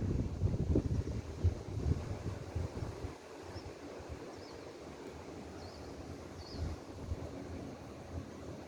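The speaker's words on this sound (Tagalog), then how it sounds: "humahangin guys. Humahangin." Wind blowing outdoors by a pool, a steady low rushing buffet across the microphone with heavier gusts at first, then a softer continuous whoosh.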